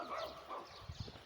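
A dog barks a couple of times, faint and distant, near the end of a brief stretch of outdoor ambience by a river in Utawala.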